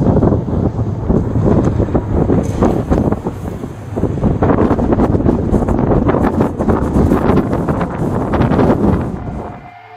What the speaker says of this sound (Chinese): 外面正在狂风大作